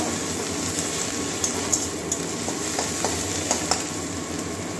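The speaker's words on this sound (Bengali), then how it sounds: "আদা রসুনের পেস্টটাও দিয়ে দিলাম। এটাও ভেজে নেব কাঁচা গন্ধ যাওয়া পর্যন্ত।" Ginger garlic paste fries in a pan with a steady, close sizzle, punctuated by several sharp clicks and taps of a spatula stirring against the metal.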